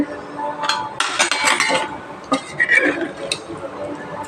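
A metal pressure cooker lid is opened in a village kitchen, with several sharp metallic clinks and clatters, a cluster early and scattered taps afterward, fairly close and alone.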